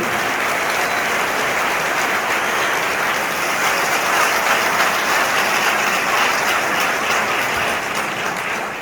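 A large crowd at a political rally in Guadeloupe claps steadily and loudly throughout, a dense unbroken wash of applause.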